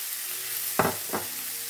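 Vegetables fry in a pan with a constant soft sizzle, and two brief stirring scrapes cut through near the middle.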